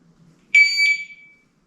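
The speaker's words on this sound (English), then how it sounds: "time starts at the beep. The second beep, that'll be 10 seconds" A shooting timer gives a single loud electronic beep lasting under a second, cutting through near silence before it stops abruptly.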